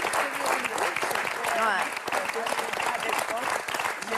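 Studio audience applause on a French talk show, a dense, steady clapping from a crowd that carries on throughout, with people talking over it.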